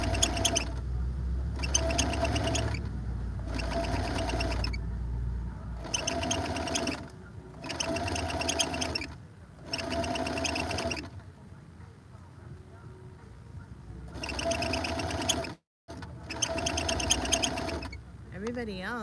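Sewing machine running outdoors in regular short bursts of rapid whirring stitching, several evenly spaced runs separated by pauses, close by, with a voice talking between runs.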